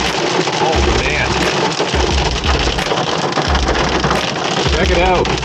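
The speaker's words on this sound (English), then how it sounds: "it looks like the storm has caught up to me, and there's hail. Lots of hail." Dense hail pelts down continuously during a storm while fishing outdoors, a loud steady hiss and patter of hailstones with low wind rumble beneath and bursts of excited talk throughout.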